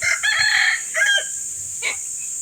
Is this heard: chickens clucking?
yes